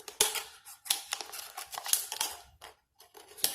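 Scissors snipping through a cup for a homemade speaker craft, several quick crisp cuts close by in an irregular rhythm with brief pauses, no talking.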